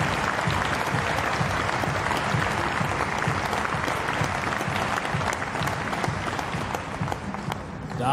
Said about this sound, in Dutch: mag ik nog een daverend applaus?